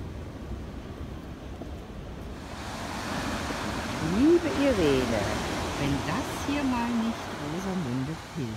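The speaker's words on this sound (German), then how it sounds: "Wir stehen auf den Klippen, unter uns rauscht das Meer." Sea surf rushing and roaring below coastal cliffs, a steady broad wash of waves heard from above, with people talking over it in the second half.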